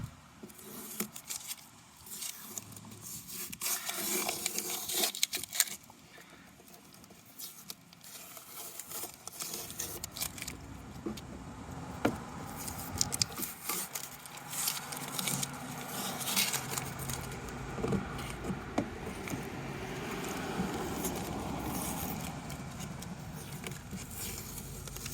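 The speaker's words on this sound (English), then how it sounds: "Now we're gonna get all of this tape off." Tape peeled off a boat panel up close, with continuous crinkling, tearing and rustling that grows busier toward the end, along with occasional handling knocks.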